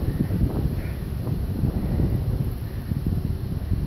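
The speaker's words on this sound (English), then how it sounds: "it is windy out here" Steady low rumbling wind buffeting a microphone outdoors while scooter riding, continuous and fairly loud throughout, with no voices.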